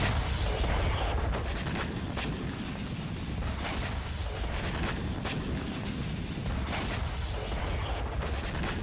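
Heavy blasts and rumbling booms after a missile strike on a weapons depot in Odesa roll on continuously, loud and distant-sounding, one thud following another under a constant roar.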